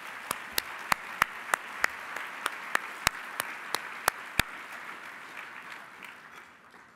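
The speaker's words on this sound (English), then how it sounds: "let's just give one more round of applause" Applause from a luncheon audience at a King County Bar Association Martin Luther King Jr. event, with a dense wash of clapping and a string of sharp, regular claps standing out near the front before the sound fades toward the end.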